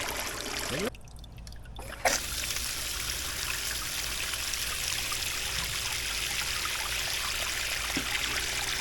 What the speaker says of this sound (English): I have this hooked up to a 750 gallon per hour pump, is what I'm using